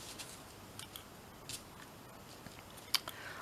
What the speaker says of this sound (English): Get my little scissors.